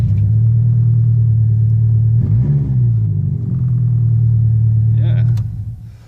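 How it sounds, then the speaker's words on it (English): A 1999 Subaru Impreza wagon with no rear exhaust idles with a loud, steady low rumble, briefly surging in a short blip midway before the sound tapers off near the end. "I'll just turn it over, as you'll be able to hear that the car does not have a rear exhaust."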